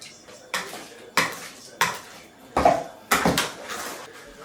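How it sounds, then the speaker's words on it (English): A utensil scrapes and knocks around a bowl of grated potato pancake mixture in a home kitchen, stirred aggressively in about six separate bursts. The strokes land at a roughly even rhythm, close and fairly loud, with no talk over them. "we just stir the shit out of it"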